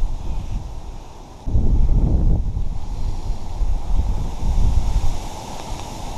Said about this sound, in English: this wonderful and very unexpected October blizzard we're having